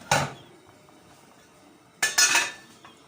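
A cooking pot of chicken stew is covered with a small lid: two sharp metallic clinks and clatters, the second longer, set apart by near silence.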